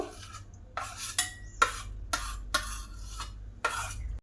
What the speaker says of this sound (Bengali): এবার যে আমের শাঁসগুলো আছে ওই আমের শাঁসগুলো মিক্সার জারের মধ্যে দিয়ে দেব